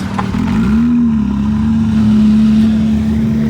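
A Porsche GT3 sports car engine revs up and settles into a loud, steady high-pitched drone, close by, with no talking.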